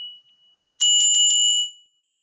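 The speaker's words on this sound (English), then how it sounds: "So here goes the bell." A meditation bell is struck once, producing a bright metallic ring with a brief shimmering beat that fades out within a second, alone in a quiet space after a faint lingering tone.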